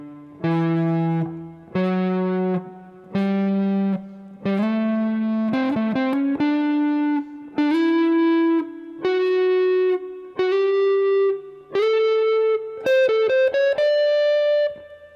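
Instrumental interlude from a 1972 concert at the Strand Lyceum in London, with sustained electric guitar phrases rising in pitch in a steady series of held, slightly distorted notes, with no voices.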